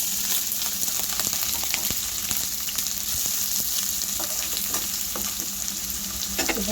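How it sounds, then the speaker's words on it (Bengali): Green chilies and onions fry in hot oil in a wok, a steady dense sizzle with crackling pops throughout and occasional sharper spits near the end. "এখন আমি কাঁচামরিচ আর পেঁয়াজ ভেজে নিচ্ছি"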